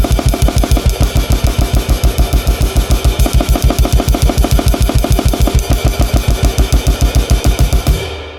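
Drum kit played at extreme speed, a one-foot blast beat that shifts into a hammer blast, with a tuned kick pedal: dense, machine-gun-like even hits with cymbal wash over the top, loud and close throughout, stopping abruptly near the end.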